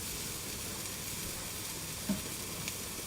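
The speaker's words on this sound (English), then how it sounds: "So let them carrots be great with all this little saute." Carrots sauté in a pan, giving a faint, even hiss of sizzling with a brief soft clink partway through.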